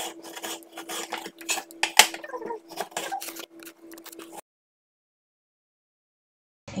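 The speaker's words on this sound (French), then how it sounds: "il suffit de prendre vos tomates, de les couper en tout petits morceaux" Close knife chopping green tomatoes into small pieces on a board: irregular taps and rasping scrapes for a few seconds, then silence.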